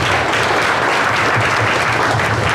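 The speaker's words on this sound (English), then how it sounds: "give him a round of applause" A crowd applauds a local honoree at the Rice County fair's Best of the Best event: dense, steady, loud clapping sustained without a break from start to finish.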